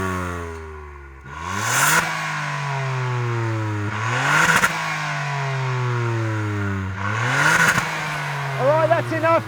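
A Ford Fiesta ST's 1.5-litre three-cylinder turbo engine is revved three times, each rise sharp and loud, then falling back to a steady idle between blips, close by.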